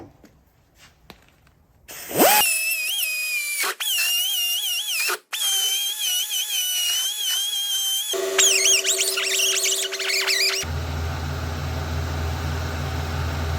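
A 1/4 inch air Dremel cleans up a hole in a chainsaw port, spinning up into a loud, high whine that wavers in pitch as it bites the metal, cutting out briefly, then giving way to a hissing rush of air.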